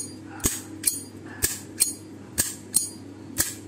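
A Japanese-market Zippo lighter with an Okinawa theme and a brass case, flicked open and snapped shut repeatedly: seven crisp metallic clicks in a steady rhythm, close and clear against a quiet room.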